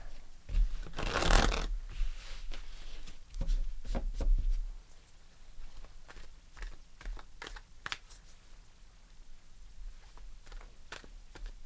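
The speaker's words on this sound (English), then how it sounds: "Let's pull a card for the Knight of Cups." Tarot cards are shuffled and drawn from a deck. A loud riffle comes first, then softer scattered card flicks and taps continue close by without talk.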